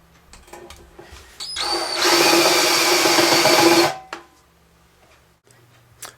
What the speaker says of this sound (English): Now I'm going to come back with this countersink on a portable drill just to take off the rough edges.